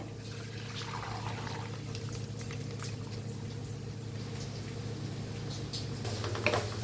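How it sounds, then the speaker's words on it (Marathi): Water drains from cooked moth beans through a strainer in a soft, steady pour with small splashes over a low, constant hum. "आता मटकीला आणि पाण्याला एक वेगळं करूया"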